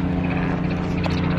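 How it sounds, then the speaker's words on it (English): A helicopter flies overhead in Orlando, Florida, giving a loud, steady rotor and engine drone across the whole short moment. "Up there, helicopter."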